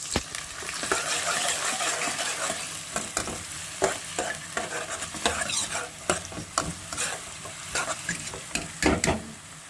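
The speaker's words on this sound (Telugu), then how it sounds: "ఆనియన్స్ కూడా వేసుకొని బాగా ఫ్రై చేసుకుందాం" Onions and curry leaves fry in hot oil with a steady close sizzle, broken by frequent sharp scrapes and clinks of a spoon stirring against the pan.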